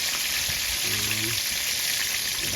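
Chicken feet sizzle steadily in hot oil in a frying pan, a dense continuous crackle that fills the whole stretch with a brief low hum partway through and no talk.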